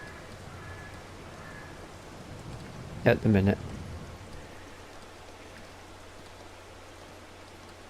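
Rain falls in Farming Simulator 22 as a soft, steady hiss throughout, with a brief spoken phrase in the middle and a low engine-like hum coming in later.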